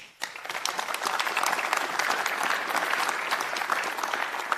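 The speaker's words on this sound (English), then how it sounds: "Please give them an applause." Steady audience applause at an Elia Group energy event, dense clapping from many hands that starts abruptly and holds at a constant level throughout.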